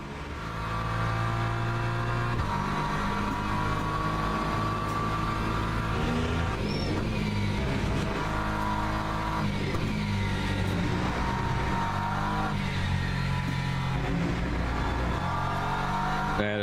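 A BMW race car engine in Le Mans Ultimate holds a steady, loud drone, its pitch rising and falling through shifts and revs, with no talk over it.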